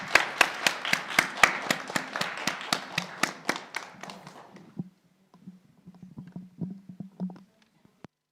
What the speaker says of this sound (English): A big clap and on to the break.